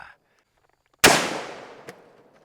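A single deafening .500 Magnum gunshot cracks out after a moment of silence, its blast rolling away in a long decaying echo, with a fainter knock trailing just behind.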